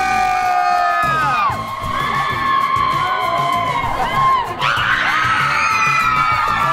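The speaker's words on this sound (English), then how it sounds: "So let's get a yell of excitement." Movie screening audience yelling, whooping and cheering loudly and continuously, a dense crowd of excited voices with high shrieks rising again near the end.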